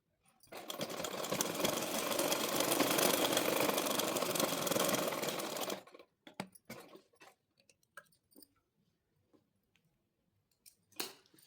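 A sewing machine stitches elastic onto palazzo pants in one steady, fast whir lasting about six seconds, followed by quiet handling clicks and rustles of fabric.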